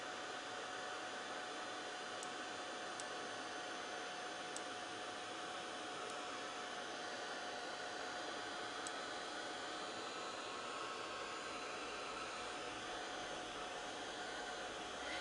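A heat tool melting UTEE embossing powder blows with a constant, even rush of hot air, close and unbroken, with no voices.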